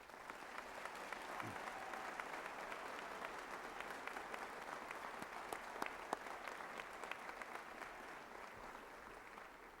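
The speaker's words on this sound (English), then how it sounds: "please join me in giving all these people a round of applause" A commencement audience for a university college of creative arts gives sustained applause, a steady, even roar of many hands clapping heard from a distance with no break.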